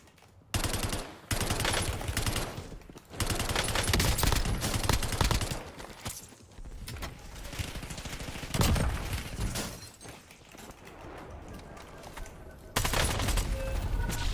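Dresden MP40 submachine gun in Call of Duty Warzone rattles out repeated full-auto bursts, loud sprays separated by short gaps, with some background game noise.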